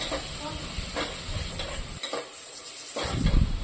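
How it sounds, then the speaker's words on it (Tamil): Crushed garlic, pepper and cumin hit a hot pan and are stirred in, giving a broad, steady sizzle with scraping stirs. A brief quieter dip comes midway before the frying noise swells again. "நம்ம பூண்டு மிளகு சீரகம்லாம் இடித்து வச்சுருந்தோம்ல இதை நம்ம சேர்த்துடலாம்"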